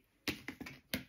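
Scissors cutting hair during a drastic home haircut: four short, crisp snips close by and fairly quiet, irregularly spaced, with no talking.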